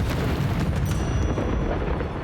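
Incendio fire spell cast in Hogwarts Legacy on Nintendo Switch, heard as a dense, roaring burst of flame that fills the whole stretch at steady loudness without letup.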